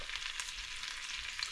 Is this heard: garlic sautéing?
yes